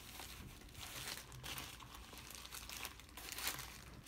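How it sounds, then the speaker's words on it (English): An ostomy bag crinkles and rustles as it is slipped inside a fabric swim cover, with close, continuous plastic crumpling and a few sharper crackles, and no talk. "So you place your bag inside."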